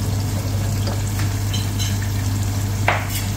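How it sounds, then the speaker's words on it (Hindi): Ginger garlic paste fries with whole spices and lightly browned onions, giving a close, continuous sizzle over a low steady hum. A few soft stirring scrapes come through, with a sharper scrape near the end. "अभी मैं इसमें दो छोटी चम्मच जो ना वो अदरक लहसुन पेस्ट में डाल दिए। अनियन को हल्का सा ब्राउन कर लिया।"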